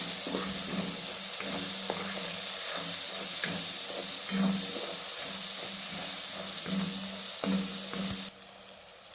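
Spices are stirred into cabbage frying in a pan: a steady loud sizzle with scraping spoon strokes at an irregular rhythm, close up, ending in a softer hiss.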